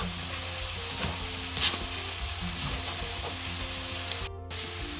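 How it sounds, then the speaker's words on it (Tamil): Onions sizzle and fry steadily in a pan for chicken curry, a continuous close hiss with faint stirring scrapes and no speech. "இப்போ அங்கே வெங்காயம் வதங்கி கொண்டிருக்கேன்."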